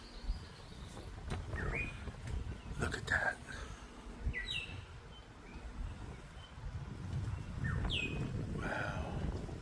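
Scattered bird chirps and short whistled calls ring out from a balcony off a bedroom at sunrise in St. Thomas, US Virgin Islands, over soft outdoor hiss, with a brief spoken remark.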